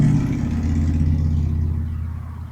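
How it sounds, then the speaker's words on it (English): A loud motorcycle engine roars past outdoors in the early morning, strong low rumble that fades steadily as it moves away, heard alone without talk. "Yes, that was a loud motorcycle."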